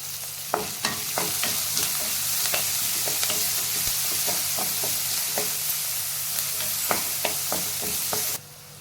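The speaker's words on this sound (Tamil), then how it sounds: "ஒரு பெரிய வெங்காயம் இந்த மாதிரி பொடியாக கட் பண்ணதையும் சேர்த்துட்டு நல்லா வதக்கிக்கலாம்." Finely chopped large onion sautés with curry leaves in a pan, giving a steady close sizzle broken by regular sharp ladle taps and scrapes against the metal, without any voices.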